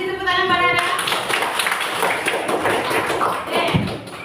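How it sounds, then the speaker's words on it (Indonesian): A classroom of students applauds a classmate, a dense burst of clapping that fills the clip steadily from start to finish, with a few thumps mixed in. "Kasih tepuk tangan pada Anda."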